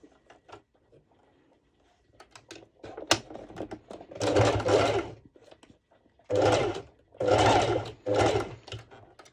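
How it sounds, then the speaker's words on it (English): A sewing machine runs a straight stitch across two layers of fabric for a sports top in several short, loud bursts of rapid chattering, with quiet clicks and pauses between them. "now I'm going to do a straight stitch over here."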